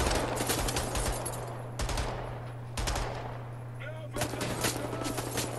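Automatic weapon fire in the video game Wolfenstein: The New Order, heard as several loud bursts of rapid gunshots over a constant low hum of game sound.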